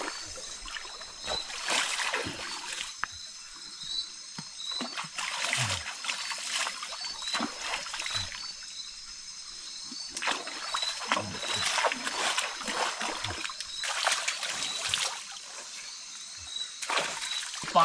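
Hands and feet being washed in a stream in the hills of Northeast India, with intermittent splashes and trickles of water over a quieter outdoor background, sounding close.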